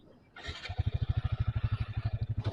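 A motorcycle rides around a football stadium, its engine pulsing in a fast, steady throb that starts up after a short pause and stays close and fairly loud.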